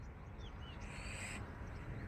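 Homing pigeons in a loft in Bhavnagar coo softly amid steady, noisy outdoor background, with no talk.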